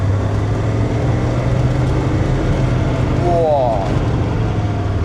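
A Mercedes W123 300D diesel with 500,000 km pulls away near a beach, its engine a steady low drone that rises briefly in pitch as it accelerates, running continuously with no talk over it.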